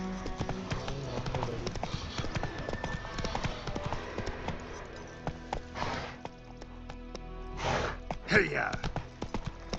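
Roach, a horse in The Witcher 3, clip-clops along at a moderate pace under game ambience, with a few louder bursts of noise toward the end.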